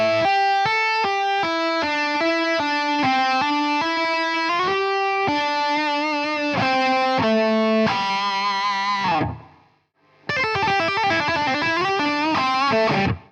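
A distorted electric guitar plays a fast tapped lead phrase with a slide up the neck, bright sustained notes in quick succession, a brief gap near ten seconds, then more tapped notes, loud and alone.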